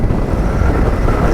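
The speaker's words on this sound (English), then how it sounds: "It's very windy today" Strong wind buffets a camera microphone during an off-road ride, a loud, steady low rumble filling the whole stretch with no pauses.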